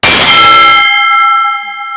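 Bronze Brahma Talam cymbals are struck once, giving a sharp metallic clang that rings on like a temple bell and fades slowly.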